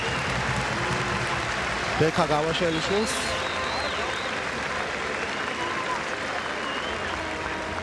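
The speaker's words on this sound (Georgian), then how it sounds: "და აპლოდისმენტების თანხლებით ვაცილებთ" Stadium crowd applauds steadily as a Georgian rugby player leaves the field during an Ireland versus Georgia under-20 world championship match, broad dense clapping throughout with a commentator talking over it.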